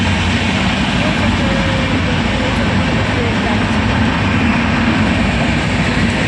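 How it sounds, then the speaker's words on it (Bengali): A train passes on the railway line right in front of a house, a loud, continuous low rumble that holds steady for the whole stretch. "যখন তখন ট্রেন যায়, কারণ রেল লাইনের ট্রেন সামনে বাড়ি"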